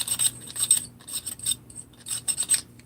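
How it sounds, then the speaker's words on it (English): A metal file rasps in short repeated strokes across the edges of freshly milled metal sleeves, taking off burrs. The scraping is close and uneven in rhythm, with no one talking. "Try to take some burrs off of these, make sure they're, not super uncomfortable."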